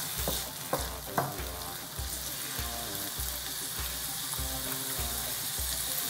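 Garlic sizzles in a hot pan, a steady loud frying hiss broken by a few sharp stirring clicks and scrapes early on, with no talking.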